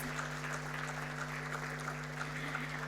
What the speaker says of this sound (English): let us all stand up and give him the appreciation and applause that he truly deserves.